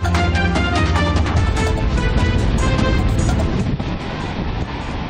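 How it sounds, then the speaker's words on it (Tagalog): Loud, constant roar of strong typhoon wind buffeting the microphone, with rough broadband rushing of waves crashing nearby on the coast at Palanan, Isabela, Philippines. "Malakas na ang alon at hangin sa coastal town ng Palanan, Isabela."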